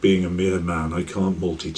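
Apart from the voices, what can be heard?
None of the usual background noises is heard.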